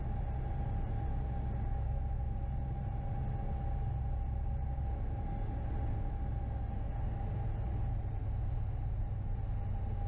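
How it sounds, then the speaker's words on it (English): A light aircraft engine drones steadily and loudly on final approach to runway 27, a constant close hum with a low rumble that never lets up. "Here's my final approach to runway 27."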